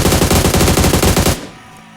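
Rapid automatic gunfire in the BGMI (PUBG Mobile) video game, a loud close burst of evenly spaced shots lasting over a second before cutting off into quiet.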